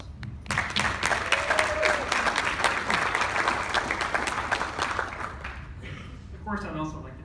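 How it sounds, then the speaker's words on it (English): An audience at a talk about living with type 1 diabetes breaks into sustained applause, dense close clapping lasting several seconds before fading out, with a voice briefly heard as it dies down. "They definitely deserve a round of applause."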